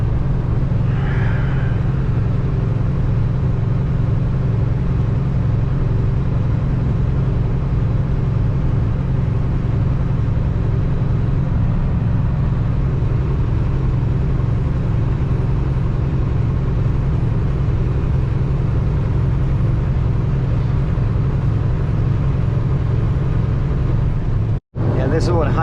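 A car cruising at about 56 mph on dry Highway 39 southeast of Moose Jaw in winter, a steady loud interior rumble and road drone that holds constant throughout, with a brief dropout near the end.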